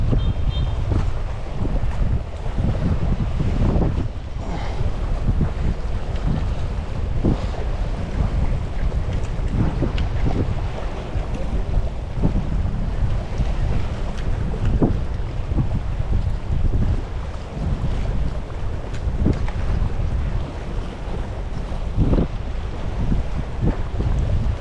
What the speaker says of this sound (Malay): Ni dah angin kuat ni.